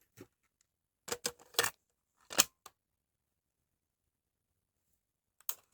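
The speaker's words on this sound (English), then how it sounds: "when I put the tape in there" A cassette tape going into a JVC KD-D55 cassette deck gives a few short, close plastic clacks and clicks in quick succession, then quiet, with one more click at the very end.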